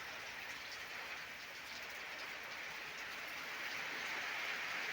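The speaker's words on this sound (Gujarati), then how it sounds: "જોઈ લેજો મિત્રો વરસાદ" Steady rain falling outdoors, a continuous even hiss of drops on surfaces that holds at moderate level throughout with no voices.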